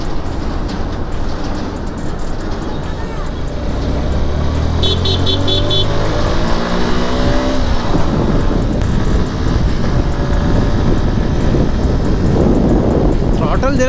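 A motorcycle rides the Mumbai-Goa highway, its engine revving up through rising tones under throttle amid heavy wind rush on the microphone, loud and constant throughout.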